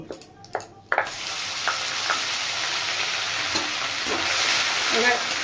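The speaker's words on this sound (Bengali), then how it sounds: "এবার পেস্ট করে রাখা মশলাটা দিয়ে দিচ্ছি, যেটা ভেজে পেস্ট করা।" Fried spice paste dropped into a hot pan and stirred, a few clacking knocks at first, then a steady sizzling hiss with occasional scrapes of the spoon, close and without talking.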